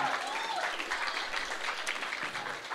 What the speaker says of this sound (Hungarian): Egy nagy tapsot szeretnénk kérni neki.